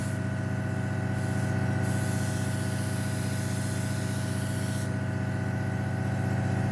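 Airbrush spraying a thin first coat of paint onto a 1/72 Hasegawa F-6 Lightning scale model jet, giving a steady, close, continuous hiss that briefly softens a couple of times and runs alone throughout.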